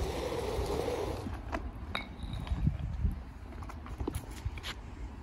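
Metal male and female fire hose couplings clink together as they are set side by side, a few sharp close metallic taps over low background rumble.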